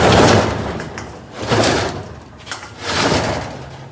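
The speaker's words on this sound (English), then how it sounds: "Grab it from underneath and push it up into the track" A ballooned metal roller door is pushed up by hand back into its track, producing three loud, rattling, scraping rumbles in a row, each swelling and fading, with no voices.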